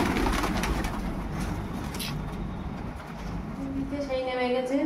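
Pigeons coo on a rooftop at feeding time, soft low rolling calls set against steady broadband background noise, with a clearer run of cooing toward the end.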